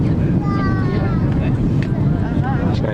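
Broadband roar inside an Airbus A330-200 cabin on Hawaiian Airlines during landing at Honolulu, steady low rumble with passengers talking over it.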